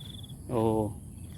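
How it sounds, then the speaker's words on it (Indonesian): A thin, high cricket trill sounds faintly at the start, then a brief low humming, voice-like tone swells over it for about half a second and fades. "Nah di sini suara jangkrik nih."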